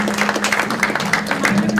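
Audience applause fills a 2018 Kansas governor Democratic primary debate forum in Kansas City: a steady, dense wash of clapping over a low constant hum, moderately loud throughout.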